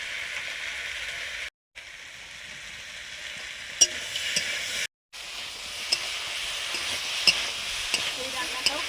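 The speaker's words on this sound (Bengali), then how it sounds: "এবারে বোয়াল মাছগুলো দিয়ে দিলাম, হালকা ভাজা।" Pieces of boal fish lightly frying in hot oil with chili in a home kitchen, a steady close sizzle with occasional sharp pops and stirring scrapes, briefly cutting out twice.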